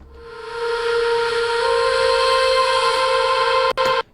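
A heavily processed vocal sample opens a hybrid trap song intro as a sustained, breathy, whistle-like tone with shifting pitch, loud and up front before a short stutter and abrupt cutoff at the end.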